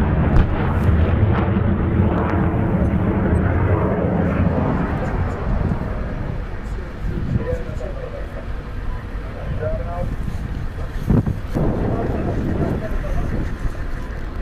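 An American missile launch during test firing in Jordan, a loud roaring rush like a jet engine that rumbles steadily and slowly fades, with people talking over it.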